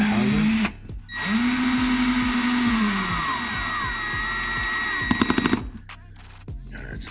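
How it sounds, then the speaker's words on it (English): A cordless power drill set to its lowest torque drives M3x12 screws into the housing of an RC truggy, with close whirring runs that rise and fall. The clutch gives a rapid burst of clicks near the end of each run. "I have it set like on the lowest torque setting, and I'll just drive them until they click"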